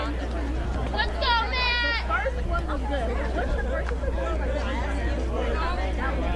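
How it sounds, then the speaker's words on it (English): Chattering crowd of fans packing the stands at a high school baseball game, New Trier versus Evanston, a steady hubbub of many overlapping voices with a brief whistle-like cheer near the start, close and continuous throughout. "Big crowd on hand."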